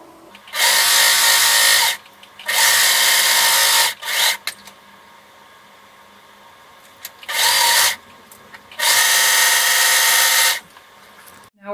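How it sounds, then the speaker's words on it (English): A sewing machine or serger runs in four long bursts of steady, fast mechanical whirring while stitching the seams of swim trunks, with short quiet pauses between runs and no talking. "you're going to sew these with a zigzag stitch or a serger"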